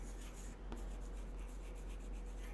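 Soft, continuous scratching of writing on a board during a maths lecture, faint and steady over a low room hum, with no voice.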